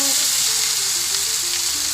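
Vegetables for a Kerala vegetable stew fry in a pan, making a loud, dense, unbroken sizzle up close for a couple of seconds.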